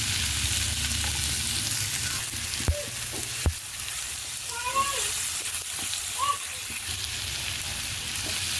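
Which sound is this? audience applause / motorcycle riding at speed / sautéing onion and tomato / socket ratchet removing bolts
sautéing onion and tomato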